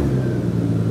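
A Nissan GT-R with a 500-horsepower RB engine, seen at a drifting event, revs hard up close with a loud, deep, throaty mechanical roar that holds steady through the short burst.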